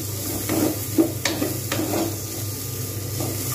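Masoor lentils stirred in a pan for a drumstick dal, a gentle scraping with a few soft knocks of a spoon against the pan over a faint sizzle and low background hum.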